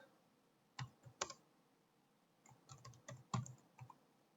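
Light typing on a computer keyboard entering a name into a document system. A few scattered keystrokes come first, then a quicker run of soft clicks, close and quiet, with no talking.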